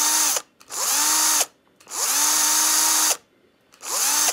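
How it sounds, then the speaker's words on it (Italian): A repaired Bosch cordless screwdriver runs in three bursts separated by short pauses. Each whirring motor whine ramps up quickly, holds steady and cuts off, loud and close, with no voices. "tre LED, batteria carica, avvitatore funzionante"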